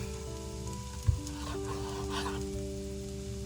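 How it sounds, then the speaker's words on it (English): Zucchini sautes in a skillet with a soft, steady sizzle close by, broken once by a brief utensil knock near the start. "we're just going to let this start to saute while we cut up the sausage"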